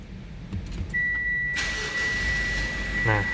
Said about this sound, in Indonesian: bunyinya kayak gitu, bunyi mesin diesel ya